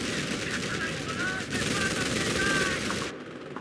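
Sustained machine-gun fire from the Company of Heroes strategy game rattles continuously at close range, layered with dense battle noise and in-game voice lines before cutting off abruptly near the end.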